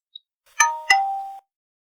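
A subscribe bell-icon notification sound effect: two quick bright metallic dings in succession, the second ringing out briefly before cutting off, clean and alone against silence.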